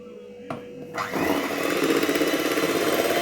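An electric mixer whirs up to speed after a brief pause, beating eggs for cupcake batter with a steady, close, continuous buzz that holds to the end.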